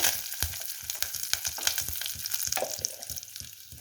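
Mutton sukka with curry leaves frying in a hot pan, a steady close sizzle with scattered crackles and pops and a few stirring scrapes throughout, no voices.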